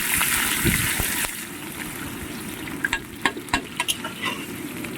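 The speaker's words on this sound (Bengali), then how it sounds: "পেঁয়াজটা আবার একটু লাল লাল করে ভাজা হোক।" Chopped onion fries in hot Fortune oil with whole spices and bay leaves, browning toward red; a close, steady sizzle is broken by a series of sharp spatula taps and scrapes against the pan.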